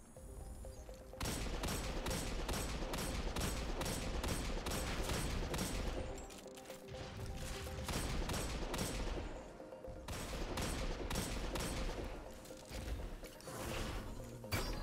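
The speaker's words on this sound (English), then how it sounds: "Can you please stop firing like a machine gun with that blast?" Sustained rapid weapon fire in the Destiny video game, dense repeated shots in bursts nearly filling the clip with a brief lull in the middle, loud and continuous, no talking.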